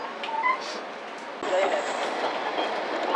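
A JR Kyushu limited express Midori train pulls into a station, a steady rumble of rolling wheels and rail noise at moderate volume, swelling slightly as it draws nearer.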